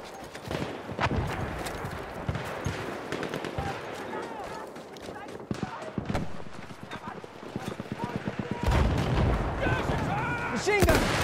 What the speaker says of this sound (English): Machine gun! One of theirs!